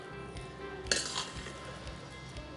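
Spoon stirring millet payasam in a pot as jaggery syrup goes in, one sharp metallic clink followed by faint scraping and scattered soft taps at a quiet level.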